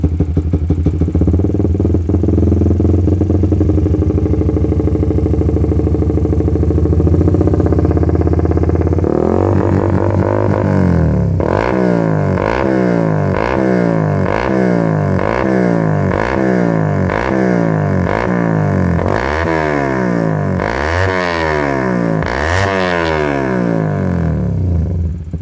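Suzuki GSX R150 motorcycle fitted with a CLD Racing Monster Race exhaust, idling loudly before being revved repeatedly in sharp, rhythmic bursts that rise and fall close up, with no talk.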